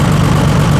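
A Massey Harris 102 tractor engine running at a low idle, a loud steady low rumble with a droning hum, heard briefly and alone.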